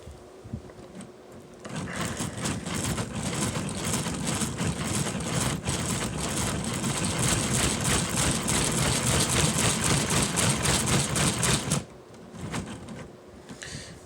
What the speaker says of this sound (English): I'm going to show off one of the cylinders and it running.